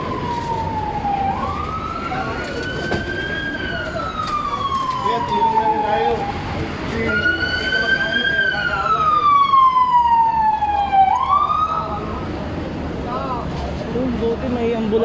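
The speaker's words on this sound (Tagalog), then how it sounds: "Buti may ambulansya na" An ambulance siren rises and falls in long slow sweeps over steady traffic rumble and nearby chatter at a collapsed skyway in Alabang, fairly close and growing louder.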